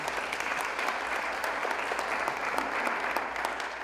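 Steady applause from an audience at an arts education event as staff members stand, a full, continuous patter of many hands that lasts throughout at an even level.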